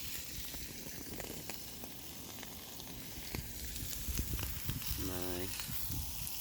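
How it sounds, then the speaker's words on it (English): A steak sizzles in a pan over an outdoor campfire, giving a steady, dense hiss under wind noise, with a short crackle and faint voices nearby. "First steak on, and that is sizzling."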